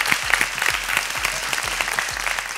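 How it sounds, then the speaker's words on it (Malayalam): Audience clapping for a young boy performer, a brisk burst of steady applause from a room of people, loud and close. "ഒരു സ്പെഷ്യൽ ക്ലാപ്പ് മോനോട് ഇല്ല,"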